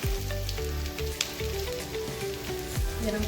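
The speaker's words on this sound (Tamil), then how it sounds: "தாளிப்பு வடகம்" Vadagam tempering in hot oil for millet sambar rice, a steady close crackling sizzle running throughout with small pops, loud and continuous with no talking.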